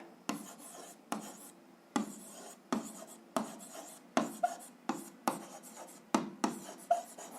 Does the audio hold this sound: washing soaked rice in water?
no